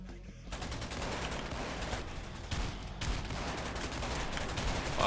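Double-barrel shotgun fire in Tower Unite's gun game mode on the Meadows map, a dense run of booming shots with brief sharp peaks against a busy backdrop of constant gunfire.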